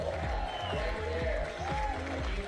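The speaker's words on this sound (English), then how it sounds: "Crowd's beginning to warm up here nicely here now." A crowd cheers and claps at a women's bouldering World Cup qualification in Vail, a steady wash of applause and shouts running under a commentator's voice.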